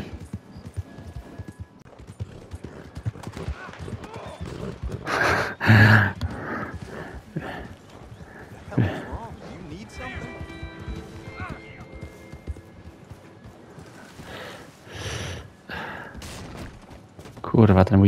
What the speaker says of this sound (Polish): koń.